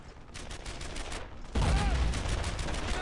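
Gunfire from the war video game Brothers in Arms: Earned in Blood, a rapid fusillade of shots that grows louder and denser halfway through, continuous bursts with no clear speech.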